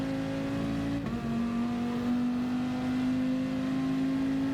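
Dodge Viper Gr.3 race car in Gran Turismo at Spa-Francorchamps, its engine holding a steady loud drone with a brief dip near the start before settling into a sustained high-revving tone, no talk.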